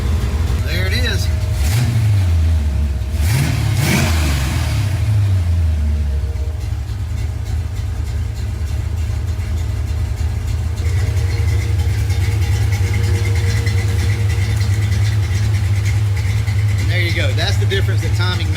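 Engine of a cheap scrapyard notchback car after an ignition timing adjustment to about 13 degrees at idle: a few sharp throttle revs near the start, then a steady, loud idle rumble that runs on, with talk over it.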